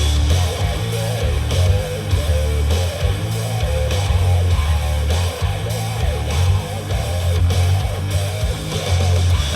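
Music plays from a Marshall Middleton Bluetooth speaker, a full mix with a steady, punchy bass beat and busy mid and high layers running continuously without talk.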